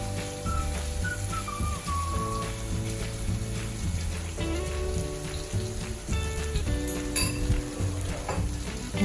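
Garlic butter noodles sizzling in a pan while being stirred with a fork, a steady crackle under a continuous background of music, no speech.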